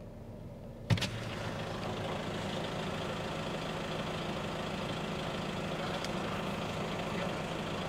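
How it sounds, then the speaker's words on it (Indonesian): A neighbouring car's engine idles steadily nearby through an open window, a constant low rumble with a brief knock near the start, no talk. "Mobil sebelah masih hidup."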